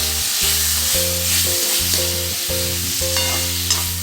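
Fried bitter gourd pieces are stir-fried in a pan, producing a loud, close frying hiss broken by regular rhythmic scraping strokes, with no voices.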